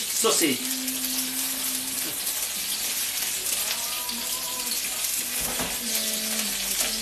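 Sausages frying and sizzling in a pan while being turned for toad in the hole, a steady loud crackle throughout with a few tonal clinks and scrapes from the pan.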